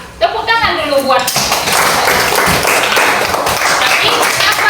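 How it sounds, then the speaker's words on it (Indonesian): Classroom applause for a student group, a loud dense burst of many hands clapping that starts abruptly after a brief spoken remark and continues steadily to the end. "Nah, tepuk tangan dulu."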